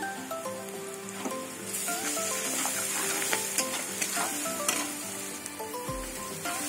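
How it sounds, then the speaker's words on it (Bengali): Garlic frying in oil after onions, a steady oil sizzle and frying crackle with a scraping stir now and then, close and fairly loud, over a soft musical background; no one speaks. "এবার আমি রসুন দিয়ে দেবো"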